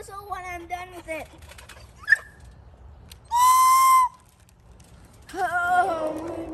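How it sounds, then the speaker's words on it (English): A single loud, steady whistle blast lasts under a second, set between squeaky voices and a short sharp tone. "I'll blow the whistle when I'm done with it."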